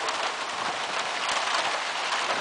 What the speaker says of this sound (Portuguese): A chuva forte que vem caindo aqui na cidade de Sertãozinho.